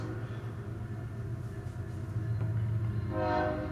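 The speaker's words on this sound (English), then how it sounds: "Sorry for the train" Passing train with a sustained horn blast, a steady low rumble throughout and the horn swelling louder toward the end, heard alone without talk.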